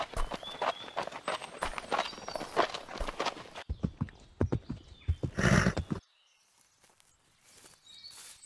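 Horses walk with steady hoof clip-clops in the Star Stable Online video game, close and fairly loud, with a whinny amid the steps before the sound drops to quiet ambience.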